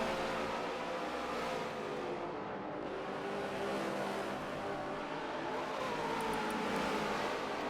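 Race cars in a NASCAR video game run at the Indianapolis GP circuit, engines droning in a steady roar as several cars sweep past one after another, with no pauses.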